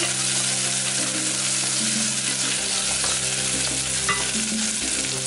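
Stirring in one of two cooking pots of tofu with green beans, a steady scraping and sizzle of frying food that runs continuously and fairly loud, with no talk.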